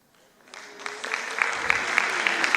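Applause from an audience at a training meeting for a justice and citizenship programme in Campinas starts thin and swells within the first second into full, sustained clapping, with a few sharper individual claps standing out near the front.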